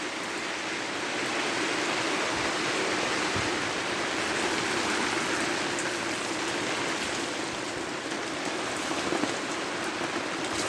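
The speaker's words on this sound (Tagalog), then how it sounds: "Lakas na ng ulan guys." Heavy rain drums down nonstop in a thick, even roar of water striking surfaces, with a few louder drips standing out near the end.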